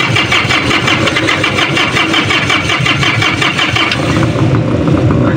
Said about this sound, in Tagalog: Sa punto na to ay kumpleto na ang ating makina mga boss at magpaandar na kami.